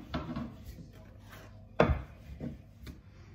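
Chapati dough being rolled out on a wooden surface: soft rubbing and rolling strokes with a few sharper knocks of the rolling pin, close and fairly quiet, with no talking.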